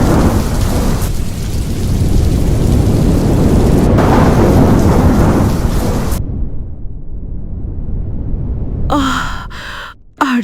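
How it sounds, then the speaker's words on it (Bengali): Heavy rain and rolling thunder roar steadily and loudly in a violent storm, then break off abruptly into near silence with a few faint final rumbles. "বাইরে প্রচণ্ড ঝড় বৃষ্টি, আকাশে বজ্রপাত।"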